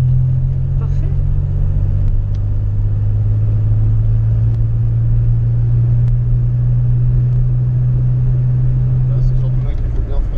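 A DeLorean DMC-12 being driven, its engine giving a steady, close droning hum that holds at an even pitch for about ten seconds before easing off near the end.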